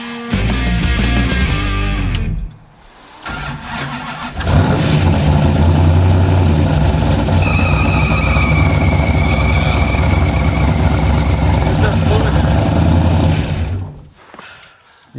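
A Hemi V8 in a rough project car fires up after a stumble, then runs loud and close with a heavy steady rumble for about ten seconds before cutting off.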